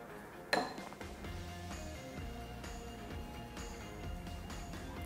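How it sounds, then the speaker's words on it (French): A spoon clinks and scrapes inside a bowl while stirring a zucchini and cheese cake batter, with one sharp knock early on followed by softer, irregular taps and scraping. "je vais encore remuer un petit peu pour le mettre au milieu"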